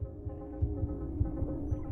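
A steady rhythmic heartbeat thumps low and muffled, several beats over a soft hum, close and even in tempo with no voices.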